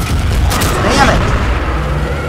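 Shotgun blasts and booming explosions ring out in the VR shooter Farpoint, a loud, dense barrage of rumbling impacts that runs without pause across the moment.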